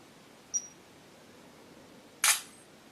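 Motorola Droid Razr HD phone camera firing its shutter: a faint short electronic tick followed by a louder, crisp synthetic click after a brief pause, close and isolated over quiet room noise.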